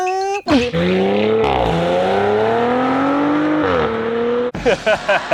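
An Audi RS5 with valve-controlled exhaust pipes revs hard, a loud, close engine roar that climbs, holds and dips before cutting off into a few short throttle blips.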